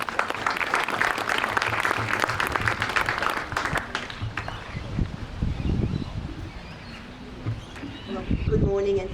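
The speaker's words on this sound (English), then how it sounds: "So another round of applause for Julie." An audience gives a round of applause for Julie at an Australia Day Citizen of the Year celebration in Eaghawk. Dense clapping starts loud, then thins into scattered claps under murmuring voices, with a brief final swell.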